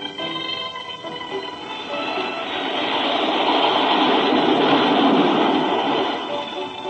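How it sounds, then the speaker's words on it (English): A roller coaster at a carnival thunders past in a radio drama sound effect, a rumbling roar that swells toward a peak and then eases, heard alone with no voices. "The roller coaster that thundered past had only 3 or 4 riders"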